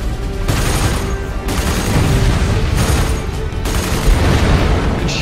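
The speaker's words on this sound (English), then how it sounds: "Missiles away." Loud, dense blasts and rumbling explosions from missile launches in a Supreme Commander 2 sci-fi cinematic, continuous heavy roar broken by abrupt cuts between bursts.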